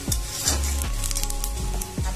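Onion roasting in a pan for a bitter gourd chutney, giving a steady close sizzle with a few soft stirring scrapes and no voices.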